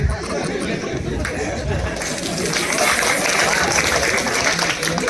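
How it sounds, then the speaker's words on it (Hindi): An audience at a talk on MBA goals claps, a dense steady patter of hands that grows fuller midway, mixed with chatter and a few chuckles. "इसमें क्या ताली बजाना है?"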